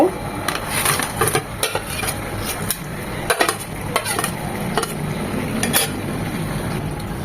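Large chicken pieces being stirred into a sweet and spicy Korean fried chicken sauce in a pan: clinking and scraping of a utensil over a soft sizzle, close by, with intermittent sharper knocks.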